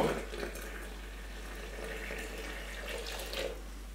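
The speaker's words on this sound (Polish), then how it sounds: "Dolewam do tego ostudzoną, przegotowaną wodę." Cooled boiled water pours in a soft, steady trickle into a jar for soup sourdough starter, faint and close, with a low hum underneath.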